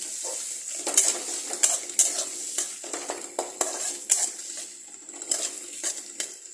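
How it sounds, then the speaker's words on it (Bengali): Chopped onions sizzle as they are stirred in a frying pan for masala mutton. Close, rhythmic scrapes and metallic clinks of the spoon against the pan recur every half second or so over a steady frying hiss. "পেঁয়াজ কুচিগুলো দিয়ে আমি এটাকে ভালো করে নাড়বো"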